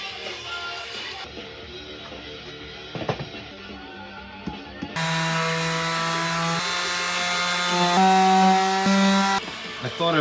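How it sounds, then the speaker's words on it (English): A power sander working over an old wooden coffee table's finish: intermittent rubbing and scraping at first, then a steady loud whirring motor hum with a rising tone, while a voice talks over the early part. "we're gonna sand it down"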